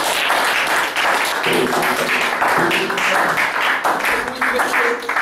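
A church congregation bursts into sustained applause for the Lord, dense clapping from many hands close by, with voices mixed in throughout.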